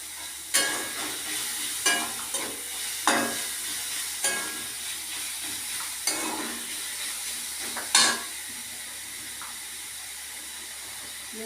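Chili and onion sauté in a hot pan, a soft continuous sizzle broken by several sharp scraping stirs at irregular intervals, close and without talk.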